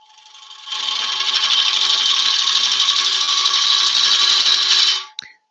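A turning tool scrapes into a wooden root ball spinning on a lathe, producing one steady, loud, hissing rasp that holds for about four seconds before cutting off, with no talking.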